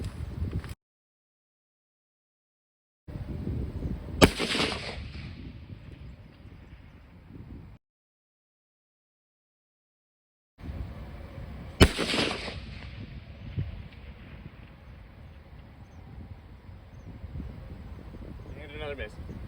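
Long-range sniper rifle shots, two sharp loud cracks each followed by a rolling echo and noise outdoors, with a few clicks and stretches of near silence between.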